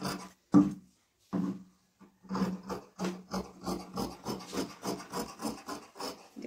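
Scissors cutting through round-shaped blouse fabric along marked lines, a series of close, rhythmic rasping snips that quicken into a steady pattern after a few separate cuts, with no talk.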